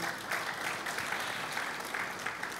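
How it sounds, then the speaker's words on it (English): A conference audience applauds steadily for an honoured guest during an address on legal migration by the head of Nigeria's diaspora commission; dense, even clapping fills the moment without voices. "Again, another round of applause for you."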